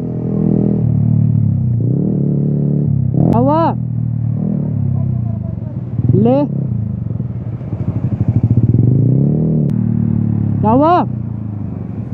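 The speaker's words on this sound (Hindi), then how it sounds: "क्या एग्जॉस्ट लगा हुआ बाइक के अंदर भाई, मज़ा आ रहा है भाई चलाने में" A motorcycle with an aftermarket exhaust rides along in Solan, Himachal Pradesh, rumbling nearby with three sharp rising revs as the throttle is blipped, while riders talk over it.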